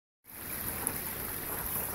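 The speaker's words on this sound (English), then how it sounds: "I heard water trickling" Water from a spring trickles out of rocks beside a forest logging road, a steady, continuous wash that starts abruptly and stays at an even level, close and moderately loud with no voices.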